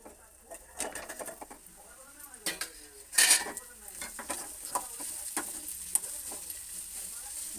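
Vegetable curry (bhaji) cooking in a pan over a low gas flame, with soft sizzling and repeated stirring and scraping of a utensil against the pot, one louder clatter partway through, close and moderately quiet.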